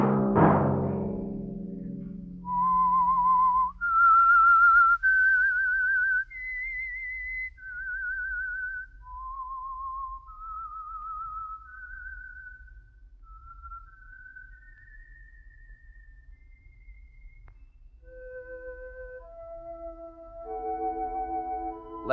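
A lone whistler carries a slow, eerie melody of held notes that rise and fall, clear and close, with a short soft burst at the very start.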